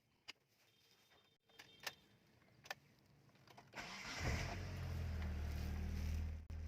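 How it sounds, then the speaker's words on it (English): A car engine cranks and catches at about four seconds, then settles into a loud, steady idle after a few scattered clicks and thumps in a quiet garage setting. "Now, start the vehicle."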